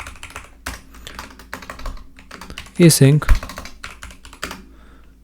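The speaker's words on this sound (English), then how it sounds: "And my typing speed has been so bad lately." Someone types on a computer keyboard while writing code, with quick irregular clicks and clattering bursts spread across the stretch, and a voice briefly speaks midway.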